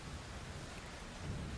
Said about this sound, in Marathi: तर मुंबईतल्या उपनगरात सुद्धा मुसळधार पाऊस पडतोय